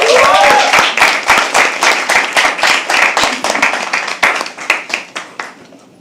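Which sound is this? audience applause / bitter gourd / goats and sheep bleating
audience applause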